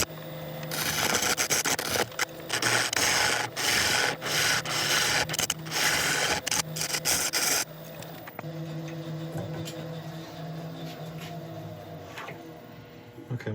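A woodturning ball gouge is sharpened against a grinder in a workshop, giving a loud, gritty rasping with short breaks for several seconds, then dropping to a softer, steady hum with faint scraping.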